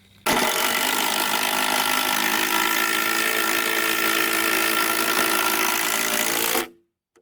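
Power driver sinking a lag screw into a wooden 4x4 post for a raised garden bed: one loud, continuous whirring drive of about six seconds that cuts off sharply, close by, with no voices.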